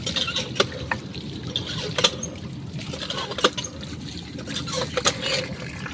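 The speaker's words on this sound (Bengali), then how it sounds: "এবার আমরা এটা ধুয়ে আমরা টমেটোগুলো ধুবো।" Water splashes and trickles steadily while tomatoes are washed, with a continuous close liquid wash broken by occasional sharper knocks and splashes.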